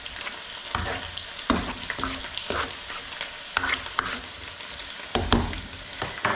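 A tofu butter masala curry mixture sizzles in a pan while being stirred, with repeated scraping strokes every second or so over a steady close frying hiss.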